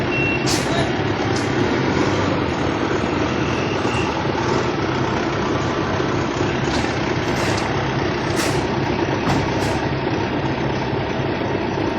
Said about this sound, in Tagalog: i-atras na ng ating kasama yung truck ko